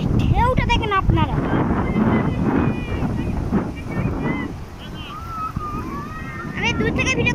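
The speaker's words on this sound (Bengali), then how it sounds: "হাওয়ার কি প্রেশার। সামনে ঢেউটা দেখেন আপনারা" Strong wind buffets the microphone at Bakkhali beach, with surf rolling in continuously behind it. Voices call out and talk over the roar.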